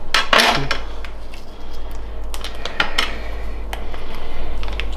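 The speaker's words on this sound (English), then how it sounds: "It's a very swift cutting motion you've got there." Knife and fork scrape and clink against a plate while cutting Texas barbecue beef in quick, irregular strokes, close up, over a low steady background hum.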